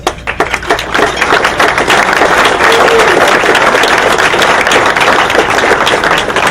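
Loud, sustained applause from a crowd at a graduation dinner, dense clapping that builds quickly and holds steady to the end.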